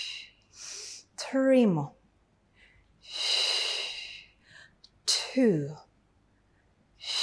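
Sharp, forceful breaths during a Pilates mat workout. Three loud, hissing exhales are spread across the stretch, and an instructor speaks between them.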